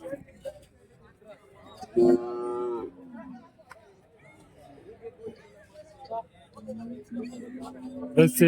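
Cattle at the Kelamangalam cow market let out a couple of drawn-out moos, one loud and one softer, between scattered people's voices and background market noise.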